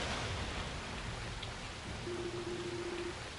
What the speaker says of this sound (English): Only the sound of the falling rain and constant thunderclaps could be heard echoing through the darkness.